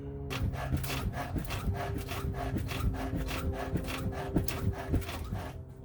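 Worn, dry sway bar bushings on a Jeep suspension creaking and rubbing in repeated rhythmic squeaks and groans, close and fairly loud with a steady back-and-forth pattern, no talk.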